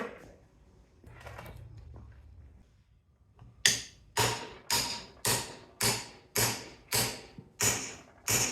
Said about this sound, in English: We're going to take a machete and just chop this down.